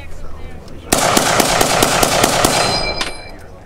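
Eight rapid rifle shots ring out from a WWII rifle at an outdoor military encampment small arms demonstration, sharp regular cracks close by, starting after a brief lull and ending with a metallic ping.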